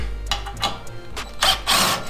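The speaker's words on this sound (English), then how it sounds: "I'm gonna zip them out with the drill." A power drill whirs in a few short bursts, close by, with brief pauses between each spin as screws are backed out of a Can-Am Ryker.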